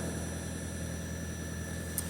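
A Ford Maverick pickup's engine idles steadily after starting up in cold weather, a low continuous hum heard from nearby with no talking.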